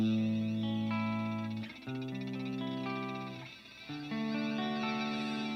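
Layered electric guitar chords ring out through a delay effect, with shimmering octave tones stacking and echoing behind them.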